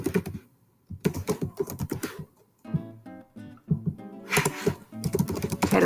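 Quick bursts of keystrokes on a computer keyboard as a quiz title is typed in Google Classroom, crisp and close with short pauses between words, no voices.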